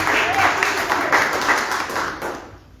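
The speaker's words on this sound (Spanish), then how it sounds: "Aplaude fuerte, hermanos." A congregation at an evangelical church service applauds loudly, a dense, steady wash of clapping that fades toward the end, with voices mixed in.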